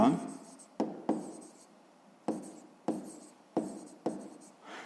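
A pen scratches out a sixth-grade maths exercise by hand in a quiet room, with a series of short, close strokes and pauses between them.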